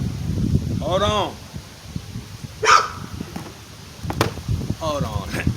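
A dog barks and whimpers in a few short bursts, with harmonic yelps near the start and again toward the end, while someone talks over it indoors.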